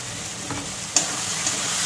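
Hilsa fish frying in oil sizzles steadily as ginger paste goes in, with a bright spatter burst near the middle and soft stirring scrapes before and after.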